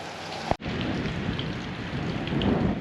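Heavy rain roars steadily and close, with a sharp crack of thunder early on and the downpour continuing unbroken afterward.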